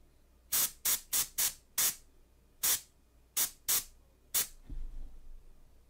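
Airbrush spraying primer paint in short bursts: about nine sharp, evenly loud hisses in an irregular rhythm, close up, followed by a softer low rumble at the end.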